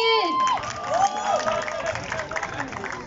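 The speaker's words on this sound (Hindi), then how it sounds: "फिर जोरदार तालियां होनी चाहिए" A crowd at a student party cheers and claps loudly, with shrill whoops and sliding whistles rising over the dense roar and voices shouting among the noise.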